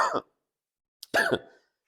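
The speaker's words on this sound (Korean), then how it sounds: "기관지염 때문에 기침이 계속 끊이지 않는데" Two bursts of coughing from a woman with bronchitis, one short cough followed by a louder double cough about a second later, close and alone with no talking.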